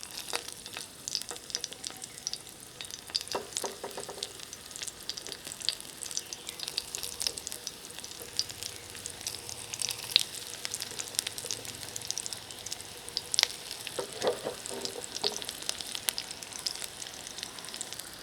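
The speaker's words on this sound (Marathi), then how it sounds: "आणि आता दोन्ही बाजूनी छान खरपूस होईपर्यंत आपल्याला ह्या शॅलो फ्राय करून घ्यायच्या आहे." Corn and spinach tikki shallow frying in hot oil on a tawa, a steady close sizzle and crackle running for the whole stretch, with a few brief scraping touches and no talking.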